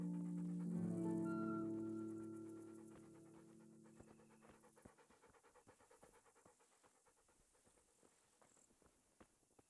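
A dog pants in the medieval video game Kingdom Come: Deliverance, with quick soft breaths under a loud tonal sound that fades over the first few seconds, then faint pattering steps.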